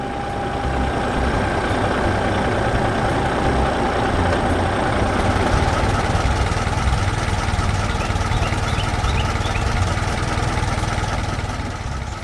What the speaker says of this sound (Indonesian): Traktor biru dengan tangki kuning sedang bekerja di sekitar tanaman yang tumbuh